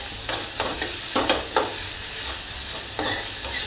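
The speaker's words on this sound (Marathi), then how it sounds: "आता हे मी एक मिनिट चांगलं परतून घेते।" Onion and capsicum sautéing in a pan for Manchurian rice balls, a steady sizzle punctuated by sharp scraping stirs at irregular intervals, close and alone with no talk.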